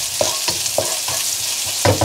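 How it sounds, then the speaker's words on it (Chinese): Pork belly stir-fries in hot oil in a wok, a loud steady sizzle broken by rhythmic scraping stir strokes about every third of a second. "先下五花肉，给它煸出油脂"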